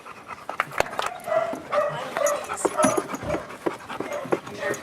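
A dog pants in rapid, uneven huffs close by, with a few brief whimpers, at an outdoor memorial gathering where people murmur and talk in the background.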